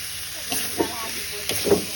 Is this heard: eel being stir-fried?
yes